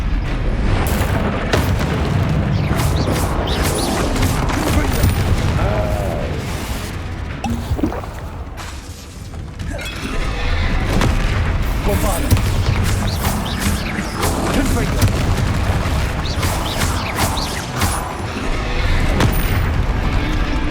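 Spell explosions in the video game Hogwarts Legacy, a dense barrage of loud booms and blasts layered over continuous battle noise, with a brief lull midway before the bursts resume.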